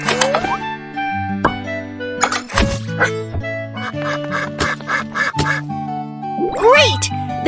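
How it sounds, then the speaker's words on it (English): Cartoon duck quacking in a children's animal rescue game, several loud close quacks over bouncy background music and playful sound effects. "The duck is clean and healthy now."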